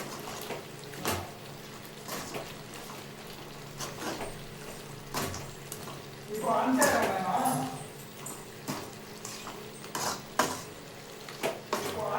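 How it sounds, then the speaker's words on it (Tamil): A ladle stirs country chicken curry in a metal pot, giving a run of sharp scraping clacks spaced through the stretch, with a thicker swirl of stirring near the middle and a low kitchen hum underneath. "இந்த கரண்டியில் கலக்கவே வாட வர மாட்டேது"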